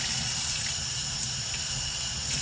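A kitchen or bathroom sink is rinsed under a running tap, a steady, close rush of water splashing into the basin without pause.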